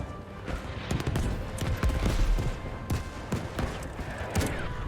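Battlefield V battle sounds: a rapid cluster of sharp booms and gunshot cracks, irregular and punchy, with several heavy thuds in the middle, loud and close.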